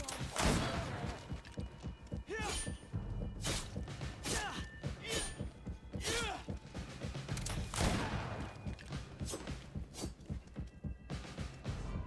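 Firearm shots from the video game Greedfall ring out in a dense, irregular volley of sharp cracks and thuds over a continuous game soundscape, loud and close throughout.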